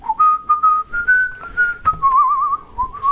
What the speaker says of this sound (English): I don't know why I'm whistling that song